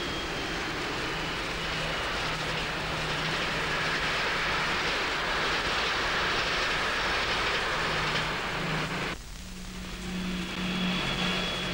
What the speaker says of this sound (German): Und schließlich die erste Fahrt eines Fernzugs.